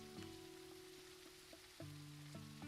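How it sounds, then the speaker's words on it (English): Rain falls in a steady soft hiss, faint and even, with a few sustained musical tones sounding over it. "Oh, it's raining."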